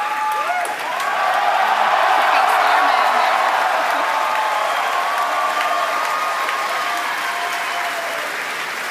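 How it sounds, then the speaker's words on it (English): Crowd cheering and applauding after the Falcon Heavy rocket test flight, a loud sustained roar of clapping mixed with whoops and raised voices that builds early and stays strong throughout. "if you can hear all that cheering, it was an outstanding test flight of the Falcon Heavy."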